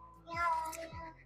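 A person imitates a cat's meow in a playful, childlike voice, two short rising-falling meows in quick succession, close and fairly loud.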